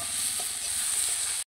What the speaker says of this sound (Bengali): ঢেঁড়সটা ভাজা হয়ে গেছে